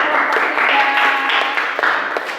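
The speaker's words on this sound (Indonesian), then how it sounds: "Beri tepuk tangan dulu untuk kelompok 3." In a school classroom, the class gives a group a short, lively round of applause, many hands clapping at once in a fairly close burst with faint voices mixed in.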